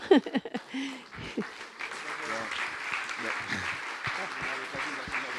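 Applause rises from the audience after a conference talk on space, starting with a few close hand claps and then settling into a sustained, moderately loud wash of clapping as a voice speaks under it.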